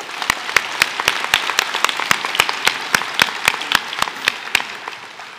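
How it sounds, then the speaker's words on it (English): Sharp, evenly spaced claps ring out at a senior prizegiving for a prize-winning student, about two per second in a steady rhythm, fairly close and prominent over a faint room murmur. "Let's give Evelyn a round of applause."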